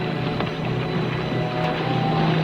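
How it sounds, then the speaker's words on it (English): A boat engine drones steadily with a low, even hum, wind and water noise washing over it, holding close and fairly loud. "We heard the sound of an engine."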